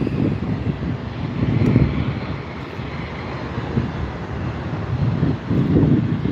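An airliner passes at an airport, its broad jet roar swelling and easing steadily for several seconds with some wind noise on the microphone, no talking.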